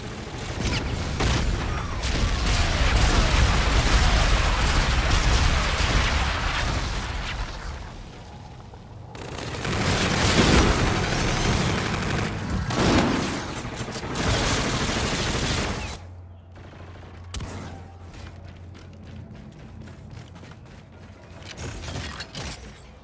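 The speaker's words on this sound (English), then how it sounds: "Enemy bombardment incoming!" Enemy bombardment in the shooter game Infinite Warfare: loud, continuous rolling explosions and rapid gunfire that swell and fade in waves, with a deep low rumble underneath and sharper bursts near the end.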